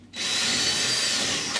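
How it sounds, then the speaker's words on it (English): A power drill bores holes through a wooden door to fit a door chain, a steady loud continuous whine running alone for over a second and a half before stopping. "Keeping the drill bit, of course, as level as possible so that the holes follow through."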